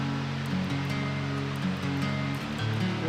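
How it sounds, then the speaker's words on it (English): A waterfall near Goat Lake roars with a constant broadband rush of falling water, loud and close, while low steady tonal hums run underneath. "we found the waterfall with a great view"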